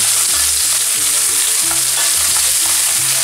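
Cherry tomatoes and garlic fry in a very hot pan with a loud, dense sizzle. Rhythmic scraping and stirring strokes repeat throughout, close up, with no voices.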